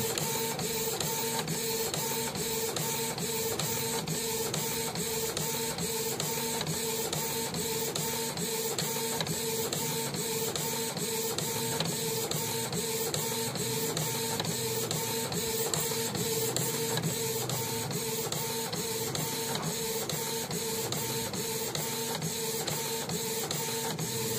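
A Canon IP2770 inkjet printer runs a print job on PET film, its carriage shuttling back and forth in a steady, continuous mechanical whir with rhythmic clicks, loud and close, with no voices.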